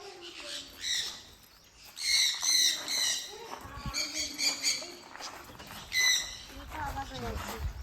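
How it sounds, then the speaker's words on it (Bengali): Many kinds of birds call inside a round aviary enclosure on a trip between Pelling and Ravangla, with bursts of squawks and shrill, repeated calls rising and falling over a busy background. "কত রকমের পাখির ডাক"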